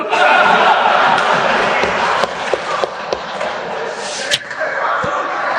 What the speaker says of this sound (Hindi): विरोधी दलों की रात हो रही है काली, नड्डा साहब बजाओ तुम भी ताली।